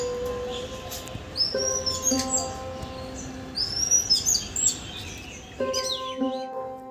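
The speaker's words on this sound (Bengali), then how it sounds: "কি সুন্দর পাখি ডাকছে" Several bright bird chirps and short whistled calls repeat over a steady background hum, birds sounding fairly close and calling on and off.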